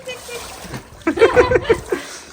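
Water splashes in a few quick bursts close by in a home swimming pool while a voice is heard in between.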